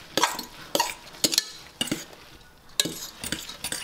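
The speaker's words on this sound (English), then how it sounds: "So you just want to give it all a mix. Mix it on up." A utensil scrapes and taps against a bowl in quick, uneven strokes while stirring zucchini tortilla batter with egg and cheese, close and fairly loud with no talking.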